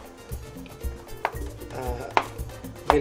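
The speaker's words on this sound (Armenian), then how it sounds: "Սկզբից կտրատենք ամբողջ բանջարեղենը," A knife chops a yellow bell pepper on a board in a few separate, sharp cuts spaced unevenly, under quiet kitchen background and soft low rumble.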